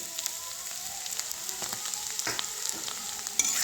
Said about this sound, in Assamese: আৰু আলুখিনি অকণ ৰঙা হোৱালৈকে আমি ভাজি ল'ম।